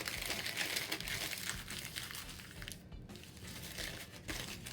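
Sheet of newspaper being crumpled up by hand for a craft project: continuous close crackling and crinkling paper, fairly quiet, with a brief lull midway.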